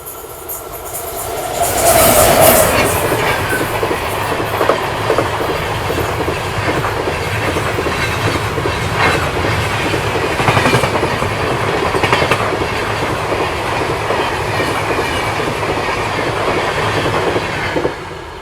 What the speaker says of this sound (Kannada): ಹುಬ್ಳಿ ರಾಮೇಶ್ವರಂ ಎಕ್ಸ್ಪ್ರೆಸ್ ನಮ್ಮನ್ನು ಓವರ್ಟೇಕ್ ಮಾಡಿಕೊಂಡು ಹೋಗುತ್ತೆ ಇವಾಗ